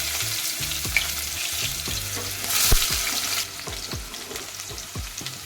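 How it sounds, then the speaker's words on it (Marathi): Finely chopped onion frying in a generous amount of hot oil in a pot for spicy mutton curry, giving a continuous close sizzle with repeated spoon scrapes and stirs, no voices. "मी टोपात आता तेल टाकलेलं आहे आपल्याला तेल थोडं जास्त टाकायचं आहे आता त्यामध्ये एक बारीक चिरलेला कांदा टाकायचा आहे"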